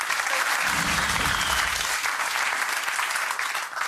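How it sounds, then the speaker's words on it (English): A television game show studio audience gives a round of applause, a full, continuous patter of many hands, loud and steady, with a brief voice underneath early on. "A splattering of applause is somewhat appropriate"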